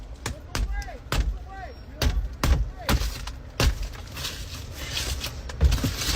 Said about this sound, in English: They're breaking my window, guys.